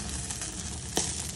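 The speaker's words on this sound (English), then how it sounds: "and sizzling, that fat doing its magic on that skin." Chicken wings sizzle on a grill as the fat bubbles on the skin, a short, steady close crackling hiss with one sharp pop near the end, no voices.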